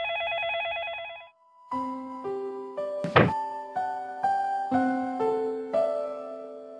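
A telephone gives a short electronic warbling ring, then stops; a run of plucked musical notes follows, broken once by a dull thud.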